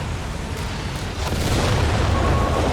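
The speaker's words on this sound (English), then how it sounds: "Dose of the incendiary artillery." Incendiary artillery barrage in Company of Heroes 3, a World War II strategy game, heard as a rolling, continuous rumble of booms and bursts that grows louder and denser partway through, with no voices.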